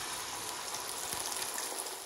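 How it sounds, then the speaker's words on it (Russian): Egg and diced tomato omelette mixture sizzling in a frying pan, a steady, faint crackling hiss with no break and no one talking. "И теперь в яйца я добавила нарезанные кубиком помидоры, и выливаем на сковородку"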